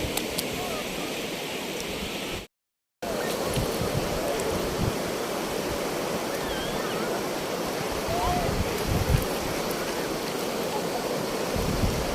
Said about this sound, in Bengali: এখন সকাল, তাই ঢেউটা একটু কম আছে